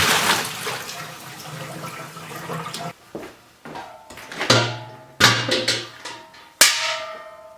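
Vinegar water sloshes and splashes as milking equipment is swirled and rinsed, starting with a continuous rush, then breaking into separate splashes and knocks with quiet gaps between them.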